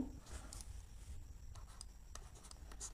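Faint pen or marker strokes on a board while trigonometry is worked out, in short scratchy bursts with pauses between them and no talking.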